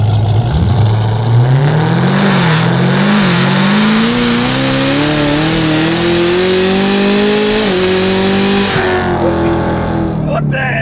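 A supercharged 2017 Chevrolet Camaro ZL1 accelerates hard, its engine note climbing steadily through the revs for several seconds before easing off, loud and close, with a voice briefly audible over it.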